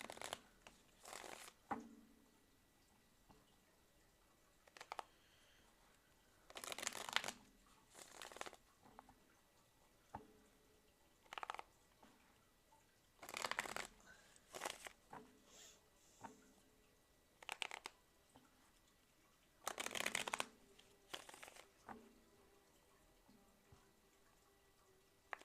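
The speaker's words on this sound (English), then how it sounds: "tell me when to stop shuffling" Tarot cards are shuffled in repeated short, soft riffling bursts separated by quiet pauses, close and gentle, with no talking.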